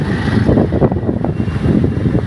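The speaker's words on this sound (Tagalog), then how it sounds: "Tapos malakas pa yung hangin." Strong wind buffets the microphone outdoors near a bar during rainy, stormy weather, a loud, continuous rushing roar with gusting surges throughout and no talk.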